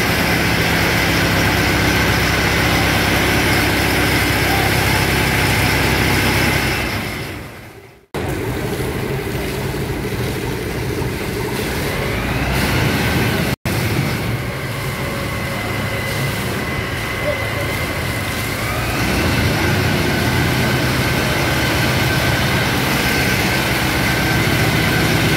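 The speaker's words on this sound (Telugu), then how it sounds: "మా అపార్ట్మెంట్కి ఫైర్ ఇంజన్ వచ్చేసి వాటర్ స్ప్రే చేస్తుంది" A fire engine spraying water at an apartment building gives a loud, steady roar of rushing spray and pump noise, broken by a brief dropout partway through, then continuing unchanged.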